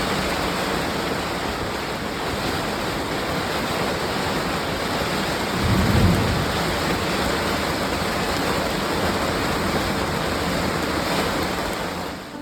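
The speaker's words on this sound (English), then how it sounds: "But soon enough, the rains arrived" Rain falls steadily on a sailboat moored at Zadar, a dense continuous hiss of drops on deck and canvas with a brief low thump near the middle.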